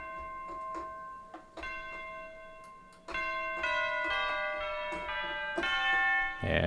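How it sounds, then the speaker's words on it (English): Sampled orchestral bells from the Cineperc percussion library ring out in a series of struck tones, starting sparse and becoming denser and louder, each note sustaining with a bright shimmering decay. "Bells."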